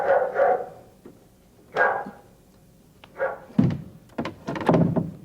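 Charlie, a mutt, makes short bursts of barking and thumping scuffles indoors, several separate loud bursts with pauses in between, close by, with no talk over them.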